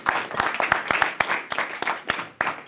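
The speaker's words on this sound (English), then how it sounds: "Give Senator Blumenthal a round of applause." Scattered clapping from a small crowd, a brief burst of applause with individual claps audible, close and moderately loud.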